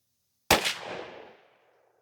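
A single loud blast from a Remington 11-87 shotgun firing a Winchester Super X 12-gauge 1 buck shell, sharp and sudden after silence, then a reverberating tail that fades out over about a second.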